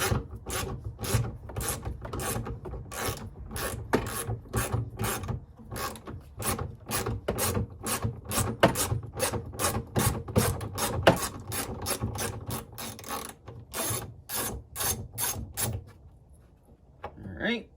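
A ratchet wrench clicks in fast, even bursts while backing out bolts beneath the shifter of a Jeep Wrangler LJ. The close, loud clicking runs almost continuously before trailing off at the end.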